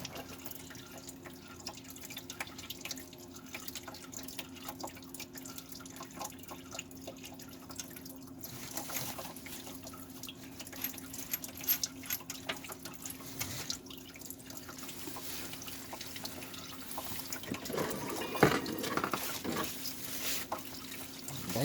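Coolant draining from a 2003 Dodge Caravan during a water pump and tensioner pulley job, an uneven run of drips and trickling liquid spattering continuously at close range, with no talk.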